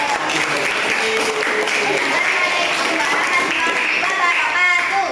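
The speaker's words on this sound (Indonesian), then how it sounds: "Kita beri aplaus dulu kelompok" A classroom group of students breaks into applause, dense rapid clapping sustained for several seconds at close range, with a voice heard over it.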